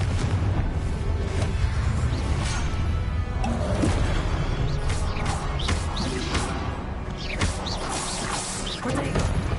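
The Confringo blasting spell in a Harry Potter video game, a sustained roar of crashing, booming blasts with debris clatter that stays loud and dense throughout, with no talking.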